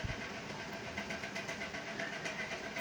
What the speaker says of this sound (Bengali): এখন আমি সেলাই করে নিচ্ছি।